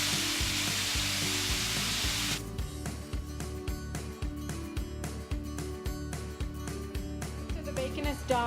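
Bacon fries on a COSTWAY grill sandwich maker, a dense, steady sizzle for about two seconds before rhythmic background music takes over and masks it.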